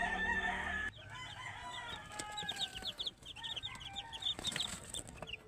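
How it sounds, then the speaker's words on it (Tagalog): Backyard chickens, including five-day-old chicks, clucking and chirping close by, with a rooster crowing among them; a soft murmur of activity runs underneath. "Bisita tayo sa ating alagang manok."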